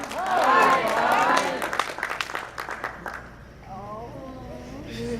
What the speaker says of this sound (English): They even said hi to you and gave you a round of applause.